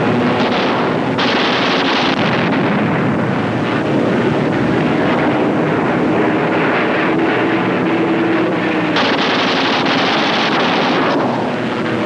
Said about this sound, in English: The flight reforms and climbs to regain its position with the rest of the squadron.